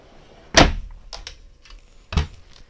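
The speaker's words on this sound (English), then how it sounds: "You're going to have some drawers that pull in and out." Two sharp wooden thumps about a second and a half apart, with faint clattering in between, like cabinet drawers sliding shut nearby in a 2022 Bay Star 3014 motorhome.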